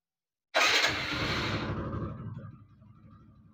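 TVS Apache 160 motorcycle engine turning over and catching, a sudden loud start that settles into a rough, steady idle which slowly quietens.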